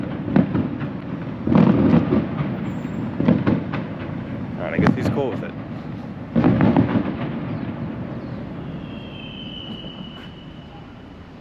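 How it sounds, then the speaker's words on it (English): Sharp bangs like gunfire or fireworks ring out at eight in the morning near the North Korean border, several loud booming bursts in clusters with echoing tails and a brief voice speaking between them. "Sounds like gunfire."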